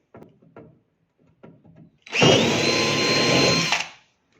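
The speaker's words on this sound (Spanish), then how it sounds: "Ahora ampliamos con la broca de 7." A power drill bores through wood with a 7 mm bit, widening an existing hole for a kayak seat mounting plate; a steady loud whine runs for about two seconds after a few light taps and handling sounds.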